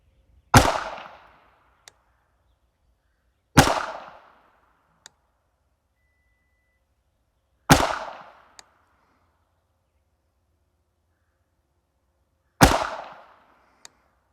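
A Canik Mete SF pistol fires four single shots several seconds apart, each a loud, sharp crack with a short decay and a faint distant tick after it, against a quiet outdoor range.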